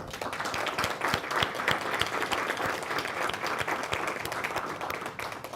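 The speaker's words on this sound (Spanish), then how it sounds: "a quien les pido un fuerte aplauso" An audience at an academic lecture on the best interests of the child applauds steadily, sharp individual claps standing out within a dense, even wash that holds for several seconds before easing slightly at the end.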